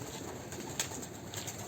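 Soft cooing of champion show pigeons murmurs faintly in the background, a low steady cooing with no one speaking.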